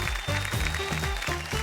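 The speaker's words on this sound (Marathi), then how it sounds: "एकदा जोरदार टाळ्या होऊन जाऊ देत" An audience claps for the winner of a game on a Marathi show, a steady wash of applause mixed with tonal voices or music.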